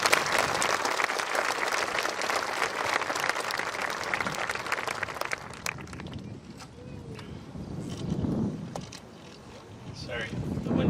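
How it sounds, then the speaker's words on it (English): An outdoor graduation crowd applauds teachers, parents and mentors, with wind buffeting the microphone; steady clapping dominates at first, then thins out while rumbling wind noise and faint voices take over. "give a round of applause to all of our teachers and parents and mentors"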